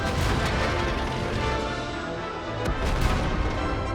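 Tank cannon fire booms through a tank battle video game as a premium Jagdtiger fires several shots at a Lorraine, a loud, dense, continuous wash of battle noise with a sharper blast near the end.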